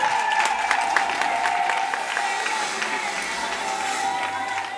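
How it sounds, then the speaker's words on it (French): Steady clapping from a crowd at a gathering in Kinshasa, a dense patter of hands that stays even for several seconds with faint voices mixed in. "Acclamons."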